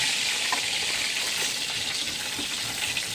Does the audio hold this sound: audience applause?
no